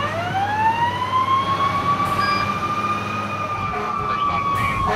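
Fire engine siren wailing continuously as the apparatus responds to a residential house fire in the suburbs, a loud, steady rising-and-holding tone over low engine rumble.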